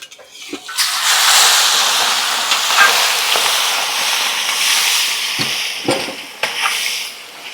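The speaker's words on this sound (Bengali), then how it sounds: "এবার আমরা একটু চিকেনটাকে ভেজে নেব" Chicken seasoned with chili powder and salt frying in hot oil, a steady broad sizzle running throughout at close range with a few brief clinks and stirs near the end; no talk.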